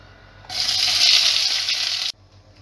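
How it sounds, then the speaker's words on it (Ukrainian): A loud burst of sizzling as chopped bell pepper hits a hot pan over high heat, a bright hiss that lasts under two seconds and then cuts off abruptly. "Тепер обсмажуємо на сковорідці на великому вогні наш нарізаний перчик"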